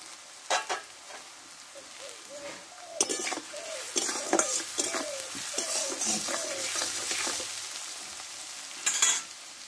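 Chopped tomato tipped into a hot pan for alur dom, frying with a steady sizzle as a spoon stirs and scrapes in short bursts, with a bird calling faintly in the background.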